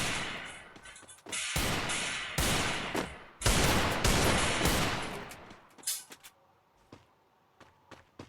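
Bomb blasts in a video game: a rapid series of loud, close, booming explosions with rumbling decays crowd the first six seconds, then give way to a few sparser, quieter bursts, with no voices.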